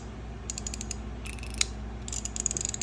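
Clicking of a Zelda-themed fidget slider, a small handheld toy, giving bursts of light ratcheting clicks in quick irregular runs, close and fairly quiet over a low steady hum, with no talking.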